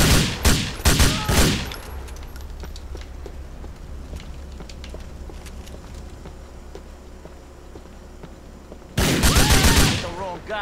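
Video game gunfire from GTA IV: a rapid burst of loud shots opens the stretch, quiet ambient game sound follows, then another dense volley erupts near the end.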